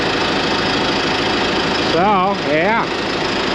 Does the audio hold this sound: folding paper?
no